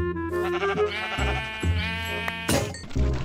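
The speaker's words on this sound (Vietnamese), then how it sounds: "Thời gian còn lại trong ngày tôi đi giết một con cừu." Sheep bleating in Minecraft, a few wavering nasal bleats in quick succession, close and clear, with a couple of short clicks between them.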